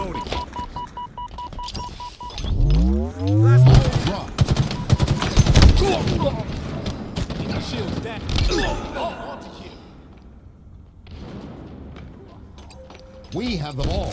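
Video game gunfire in a ball-carrying team match: a rapid, loud fusillade of shots cracking in bursts, mixed with whooshing effects and interrupted by automated game voice callouts.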